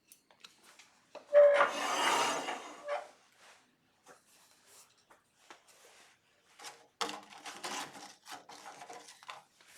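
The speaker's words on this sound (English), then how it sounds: "So I just hand sand that little piece on the end." Hand sanding rubs the end of a turned wooden spatula, with a loud burst of rasping early on followed by quieter scattered scratches and another cluster of short strokes near the end.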